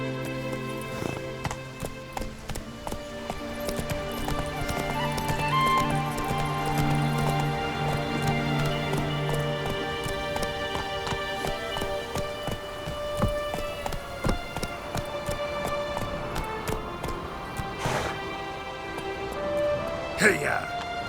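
Horse galloping in The Witcher 3, a rapid run of clip-clop hoofbeats over a rainy backdrop, with a rider's voice calling out briefly.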